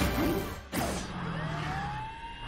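A cartoon emergency alarm wails as a rising and falling siren tone, loud and alone, cut by a brief crash partway through before the siren sweeps on.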